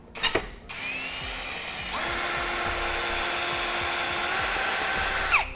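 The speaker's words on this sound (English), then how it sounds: "I'm gonna use a 5/16 drill bit." A power drill fitted with a 5/16-inch bit whines steadily as it bores through the plastic and metal of a 2012 Ford F-250 truck bumper, after a brief click at the start, with no talk over it.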